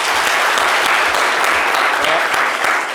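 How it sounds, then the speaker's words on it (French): An audience claps loudly and steadily on a French-language show, a dense continuous wash of applause that holds at full strength for the whole stretch. "On peut applaudir pour ça"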